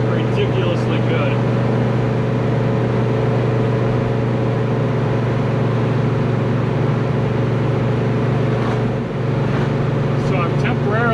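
A Chevrolet Chevelle V8 idles steadily and loudly throughout, a constant low rumble with a smooth, unbroken drone and no change in speed.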